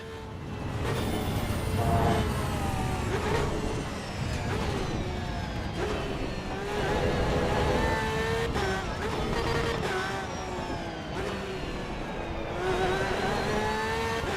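Porsche race car in Assetto Corsa EVO at the Nürburgring, a steady, loud engine roar with rising and falling revs and gear shifts running through the whole stretch, with no talk over it.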